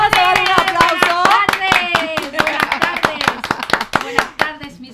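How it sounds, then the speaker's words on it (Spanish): A live radio show audience claps for an importer of Coquet products, with loud, close, distinct rhythmic handclaps beating roughly in time while a voice carries on underneath. "¡Vamos a dar un aplauso!"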